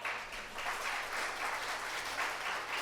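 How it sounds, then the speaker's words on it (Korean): A conference audience applauds to welcome a real estate research speaker to the stage, a dense, steady wash of many hands clapping that carries evenly for about three seconds with no voices over it. "큰 박수로 모시겠습니다."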